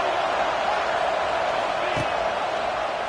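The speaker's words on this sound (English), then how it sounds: "Listen to the crowd energy here in the early going." A stadium crowd roars at a Knoxville, Tennessee football game, a continuous loud wash of cheering noise with no breaks, one brief thud cutting through midway.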